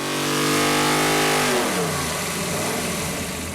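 GM 572 crate engine running on 110 octane race fuel on a dyno, revving hard with a loud, close roar whose pitch climbs, then breaks into rough, crackling full-throttle noise.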